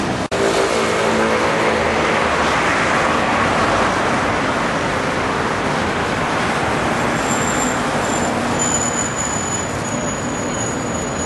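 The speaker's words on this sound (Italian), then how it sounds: "Sto aspettando l'autobus numero 64 che mi riporti alla stazione." Steady street traffic at a bus stop on Via di Porta Cavalleggeri near St. Peter's in Rome, with passing cars and vehicles forming a loud, continuous roar that barely varies.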